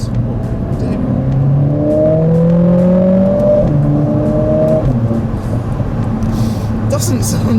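Mercedes-AMG A45 S hot hatch engine accelerating hard, a loud, steady droning roar with rising pitch sweeps through the gears, close and continuous with faint wind and road noise.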